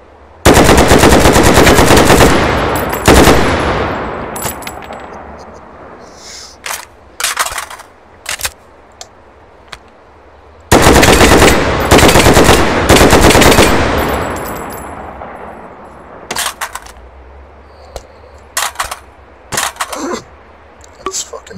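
Gunfire in the VR shooting simulator H3VR, two long, loud bursts of rapid automatic fire with echoing tails, broken up by scattered single shots and mechanical clicks, with a voice talking in between.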